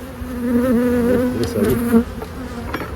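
A dense, steady buzz of many honeybees close by at an open hive in January, droning continuously with a few louder passes of individual bees.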